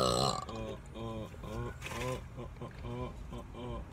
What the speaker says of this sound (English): I think I only burped 3 times.